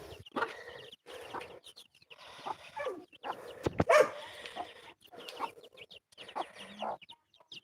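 Backyard homestead chickens, including a hen with her chicks, cluck in irregular bursts close by, with short pauses and a dog barking now and then among them.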